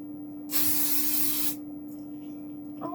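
Hairspray from an aerosol can, one steady hissing burst of about a second, close and loud, then quiet room tone with a faint steady hum.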